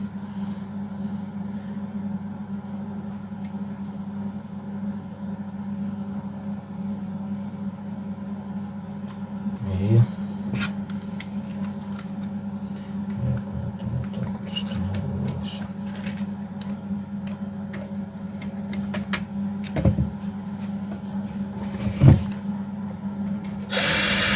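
An Emak petrol brush cutter engine that chokes when the throttle is pressed drones with a steady close-up hum, broken by occasional stumbling surges and dips in revs.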